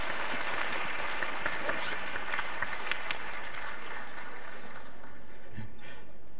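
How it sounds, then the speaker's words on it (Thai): An audience at a church-style talk event gives the guest speaker a sustained round of applause. The clapping is dense and crowded at first, then thins and fades toward the end, with faint murmurs. "ขอเสียงปรบมือให้กับอาจารย์ที่คุณนะครับ"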